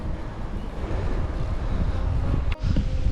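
Strong wind buffets a cyclist's microphone outdoors on a riverside route, producing a loud, low roaring rumble throughout with a brief dip and gust near the end.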